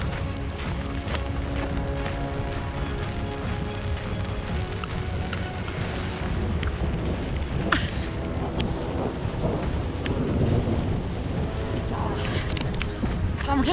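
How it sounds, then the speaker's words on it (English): A hailstorm on the Old Mill Trail in Staunton Park, Colorado, drums as a steady, dense clatter and hiss of hail striking the ground, with a faint voice in the background. "It's hailing."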